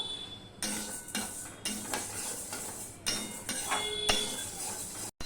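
Mung dal dry-roasts in a hot wok, heard as repeated scraping and rattling strokes of a spatula against metal, each pass a short gritty burst with brief pauses between.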